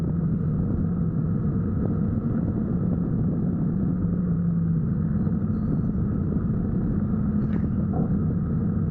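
A motorcycle rides on a road heading south out of Pokhara, Nepal, with a steady low engine rumble and wind roar that stays constant and close throughout, with no talking.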